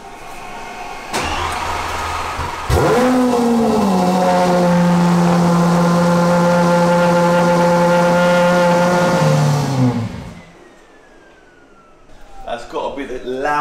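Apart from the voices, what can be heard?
Lamborghini SVJ with aftermarket exhaust cold start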